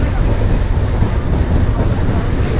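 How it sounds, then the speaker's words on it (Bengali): A passenger train rolls around a curve near the Jamuna rail bridge, a loud, close, continuous rattle and rumble of wheels on track heard from onboard. "আমাদের ট্রেনটা একবারে কার্ভ হয়ে চলে যাচ্ছে"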